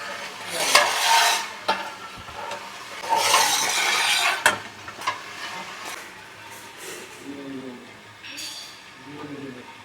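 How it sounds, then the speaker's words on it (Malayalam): Peanuts for a chilli garlic snack tumble inside a rotating drum roaster, making a dense, rushing rattle that swells and fades in waves, with someone talking over parts of it. "ഡ്രം റോസ്റ്റഡ് പരിപ്പ് ചില്ലി ഗാർലിക് ആക്കാൻ വേണ്ടി നമ്മൾ ഡ്രമ്മിലോട്ട് ഇട്ട് കൊടുക്കുകയാണ്"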